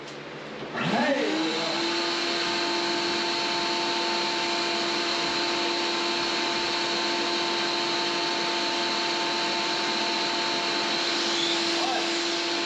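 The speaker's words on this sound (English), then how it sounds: "First run of the WEN Drywall Sander" A WEN drywall sander with attached vacuum whirs on with a steady high whine over a rushing hiss, running continuously and close.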